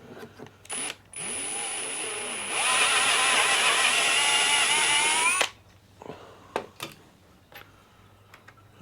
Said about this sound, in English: Stick a drill down there.